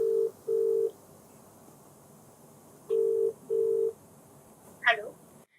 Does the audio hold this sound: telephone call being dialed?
yes